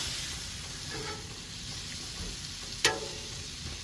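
Peppers cook on a Blackstone griddle, producing a steady, close hiss of sizzling oil throughout, marked by a few faint scrapes and one sharp metallic click near the end, with no talking.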